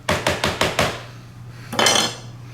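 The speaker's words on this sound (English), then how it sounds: "So give it a little stir like that." A big spoon stirring kale salad in a bowl: four quick, evenly spaced clinks and scrapes against the dish, a short pause, then one longer scraping stir, all close and clear.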